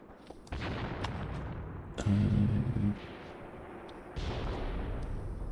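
Artillery fire in the Graviteam Tactics wargame, a series of distant booming shots and impacts with sharp onsets at irregular intervals, each followed by a rolling rumble under a steady low background.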